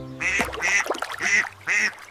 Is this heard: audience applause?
no